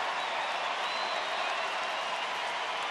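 A baseball stadium crowd at a Texas home game cheers and claps in a broad, constant roar that fills the whole moment with no break and no distinct voices.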